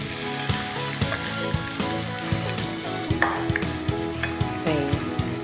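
Mutton sears in a pot over a high flame, giving a loud continuous sizzle and frying hiss. Rhythmic stirring clanks and scrapes run through it in a regular pattern.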